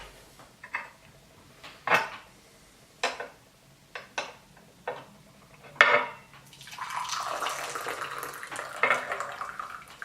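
Boiling water poured over oolong tea leaves to rinse them, a series of soft clinks and taps of teaware followed by a few seconds of gentle splashing pour, fairly quiet and close.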